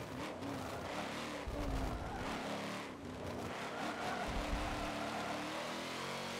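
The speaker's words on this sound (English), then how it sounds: "Corvette sounds incredible." Corvette race car in Forza Motorsport 7 during an endurance race, engine droning steadily at moderate volume with rising revs and brief tyre squeals through the lap, no voices.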